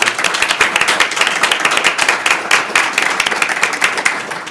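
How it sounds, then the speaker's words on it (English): Lively applause from an event audience, many hands clapping rapidly and densely at close range, steady and loud throughout with no speech over it. "So round of applause for them."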